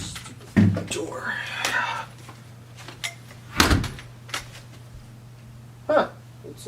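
A door knocks and thuds a few times, with one firmer bang in the middle, among scattered movement noises and quiet indoor hum.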